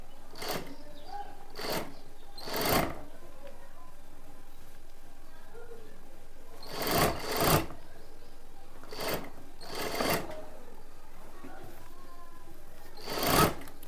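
A sewing machine stitches a blouse in short separate bursts, each a quick whirring run, spaced by pauses, heard close while someone talks between and over them.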